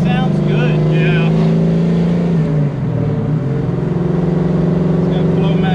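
Deep, burbling exhaust from a 1969 Pontiac Firebird 4-speed fitted with Flowmaster racing mufflers, running steadily nearby with one brief rev change, and people talking beneath the engine.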